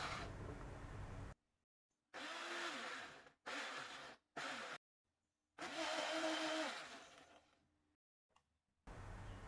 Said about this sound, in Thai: ปั่นไป เรื่อยๆนะคะ จนที่แบบ ละเอียดดีนะคะ